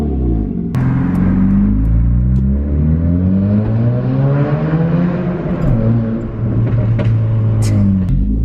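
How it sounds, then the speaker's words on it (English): A loud, raspy Honda Civic FG1 engine revs up and down repeatedly through an unmuffled straight-pipe exhaust, rumbling deep and close with no talking. "I'm now gonna do a couple revs so I can remember what it sounds like when it's revving."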